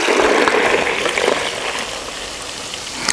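Water gushes and splashes out of a CB-350 counter-top batch freezer, a loud rushing pour at first that gradually thins into a softer, steady trickle close by.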